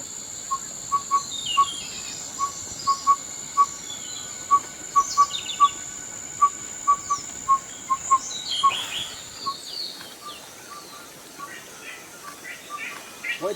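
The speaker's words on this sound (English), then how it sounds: "Bulbul." Short repeated bird chirps near a nesting area in eastern Bhutan, bright clipped notes scattered at uneven intervals over a soft outdoor hum with insect-like whirring.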